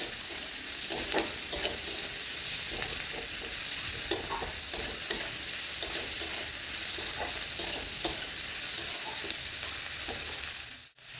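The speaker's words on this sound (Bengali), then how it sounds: "এবার এগুলোকে ভেজে নিতে হবে" Onion, garlic and chopped chili with a little salt and turmeric sizzle steadily in a pan of oil, with scattered stirring clicks and scrapes throughout and no talking.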